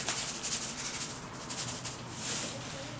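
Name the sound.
rubbing tanning mixture into a rabbit hide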